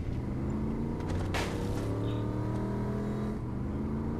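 A car accelerates in the Saints Row IV video game, a steady moderate engine drone with a rising hum and a brief swell midway, continuous with no talk.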